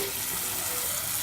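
Cool tap water pours steadily into a container of soaking seeds, a continuous close rushing splash with no pauses or voices.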